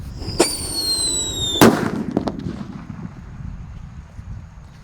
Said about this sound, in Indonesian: di sini ada mercon pearl thunder guys, warna merah. Kita dengarkan suaranya